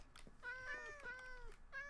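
Cats in the Minecraft video game meow several times in a row, the high, clear calls following one another closely and standing out plainly with no talking over them.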